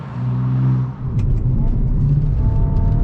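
2022 Hyundai i20 N hot hatch on Pirelli tyres accelerating hard out of a corner on a narrow road: a close engine drone swells and rises as the car pulls away, with someone talking over it.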